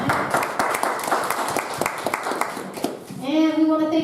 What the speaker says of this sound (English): How about a big round of applause for our studio audience showing up tonight?